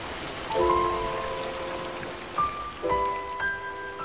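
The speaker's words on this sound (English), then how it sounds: "And amid the rain and the thunderclaps and the lightning" Steady rain falls in a constant hiss during a thunderstorm, joined by sustained piano tones that enter and change partway through.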